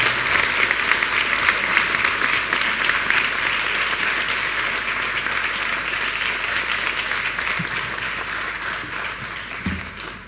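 A conference audience at a Dakar wealth masterclass applauds to welcome the founder and president of DBC to the stage, with steady dense clapping that stays loud and even throughout.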